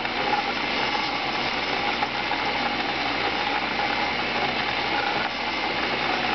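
A home-built CNC coil winder, made from leftover parts, runs steadily while winding a coil, giving a continuous mechanical whir with faint ratcheting, gear-like clicks at an even level throughout.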